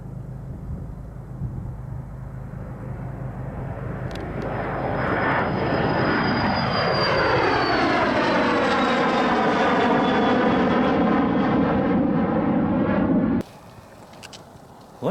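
A small plane's engine drones steadily while taxiing at Truckee airport in winter, rising in pitch and loudness as it rolls close by, then cuts off abruptly near the end.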